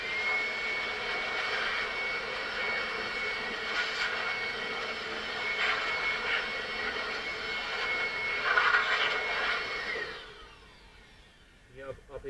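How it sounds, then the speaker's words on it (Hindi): A blower gives a Toyota Aqua engine bay a final drying pass with a loud, steady whooshing roar that fades out near the end, followed by a few faint clicks. "और अब मैं इसे ब्लोअर मारना है आखिरी दफा।"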